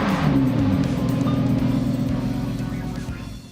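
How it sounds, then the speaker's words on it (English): A Lamborghini Huracan supercar engine held at a loud, steady idle-rev close by, a low throbbing exhaust tone that swells briefly at the start and then eases off across a few seconds, with no talking. "We could even give it a little blip here and see what we got."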